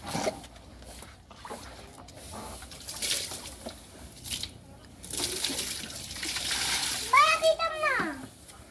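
Water pours and splashes during a child's bath, building into a sustained rush in the second half while children's voices chatter throughout and a high squeal rises near the end.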